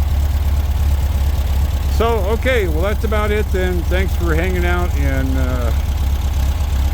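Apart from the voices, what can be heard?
air-cooled VW 1776 cc engine with dual Dellorto carburetors idling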